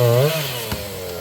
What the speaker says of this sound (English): That is an unhappy saw.